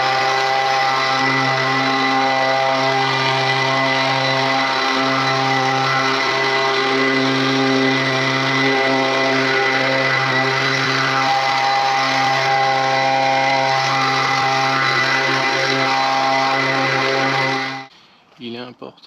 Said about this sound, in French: un petit coup de souffleur histoire de le dépoussiérer et de nettoyer le dessous de l'arbuste impeccable.